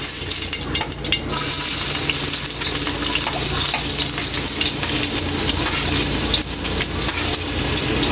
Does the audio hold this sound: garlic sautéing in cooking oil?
yes